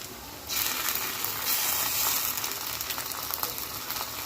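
Ginger garlic paste hits hot fat in a pan while cooking a legume khichdi, bursting into a loud, steady sizzle that starts abruptly and crackles on continuously close by.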